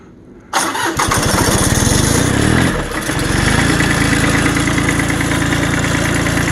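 A Bolens Iseki H1502 diesel tractor is cold-started in the snow: a brief cranking chug catches into a loud, close, clattering diesel run that settles into a steady rough idle.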